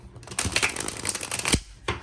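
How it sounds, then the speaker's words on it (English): A deck of stiff, fairly thick tarot cards is riffle-shuffled up close, a quick rattling flutter of card edges followed by a short pause and a second burst of shuffling. "So it shuffles pretty good."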